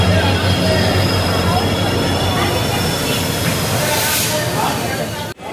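A 16849 TPJ-RMM express train arrives at a station with a loud, sustained rumble and hiss. A steady horn-like tone runs through most of it, and the sound cuts off sharply at the end.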